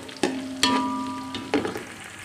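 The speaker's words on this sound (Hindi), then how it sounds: "तो अभी हम प्याज फ्राई कर रहे हैं।" Sliced onions sizzle steadily in a pan while being fried until lightly browned for chicken biryani, with a few sharp clinks and scrapes of stirring over the continuous frying hiss.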